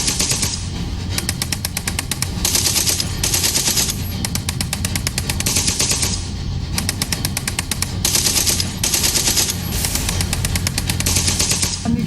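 Gunfire rings out outside Nabha jail during a prison break, a loud, sustained barrage of rapid repeated shots in dense bursts with brief gaps, heard up close with no clear talk.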